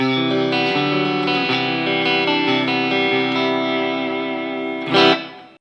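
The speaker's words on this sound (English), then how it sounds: "That's a fine clean tone right there." Clean electric guitar chords from a carbon fiber Enya Inspire guitar on the neck pickup ring out with a soft reverb tail, sustained notes overlapping, ending in a brief louder strum or scrape.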